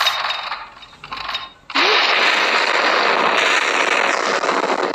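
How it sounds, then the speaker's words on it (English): A video game explosion in an earthquake scene hits suddenly, a loud sharp blast that gives way to a sustained roaring, crackling rumble lasting several seconds. "That was an awful explosion, guys."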